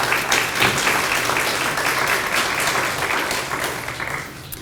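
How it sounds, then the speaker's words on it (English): A crowd applauds at a San Marcos city event, steady dense clapping held at an even level for several seconds and easing slightly toward the end. "So let's give them some applause,"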